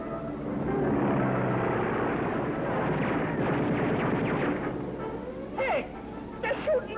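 A plane drones overhead in a vintage Abbott and Costello comedy film trailer, a loud engine roar that builds then fades, followed by a few short sharp sounds near the end.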